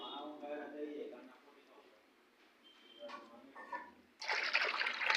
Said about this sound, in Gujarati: શેમ્પૂ આ ડોલમાં પાણી ભરે છે એમાં નાખી દઉં.